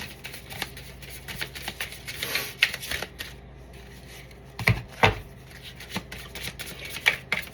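A tarot or oracle deck being shuffled by hand for a card reading, with soft riffling and crisp slaps of cards in irregular bursts, close and fairly quiet, with no talking.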